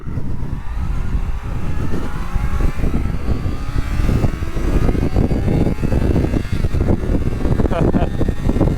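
Honda CBR 600 motorcycle accelerating hard, engine rising through rising revs with strong wind roar throughout, close and loud, with gear changes audible as pitch drops and climbs again.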